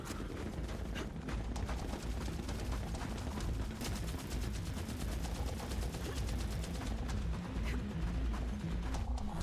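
Sustained gunfire in The Forever Winter, a busy barrage of rapid automatic bursts and overlapping shots that continues densely for the full stretch, loud and relentless with no pause.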